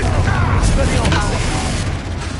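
A Confringo fire spell bursts in Hogwarts Legacy, a loud booming blast with a deep rumble that sustains over the whole moment alongside game effects, with speech partly present.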